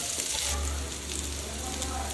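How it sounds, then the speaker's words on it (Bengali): Soybean chunks frying in mustard oil over a medium flame, a steady close sizzle with faint stirring, no talk. "লাল হওয়া পর্যন্ত আমি খুব ভালো করে ভেজে নেব"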